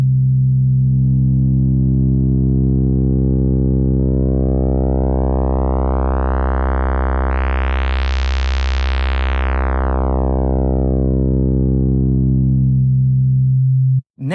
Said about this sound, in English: you have a PD that stands for phase distortion